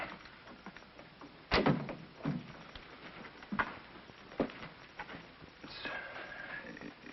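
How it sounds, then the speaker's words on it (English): A door is shut in the 1951 film Bride of the Gorilla: one firm thud early on, followed by softer knocks and rustling in a quiet room. "Close the door."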